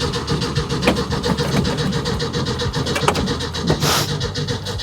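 A 1966 Ford truck engine with the choke on cranks with repeated rhythmic churning and catches briefly in a few uneven bursts, loud and close.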